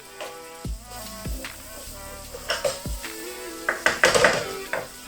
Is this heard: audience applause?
no